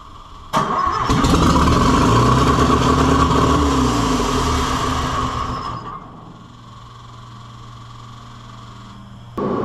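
A 1970s Gardner Denver tow-behind air compressor engine cranks on the starter and catches, roaring loudly up close for several seconds before settling into a steadier, quieter idle.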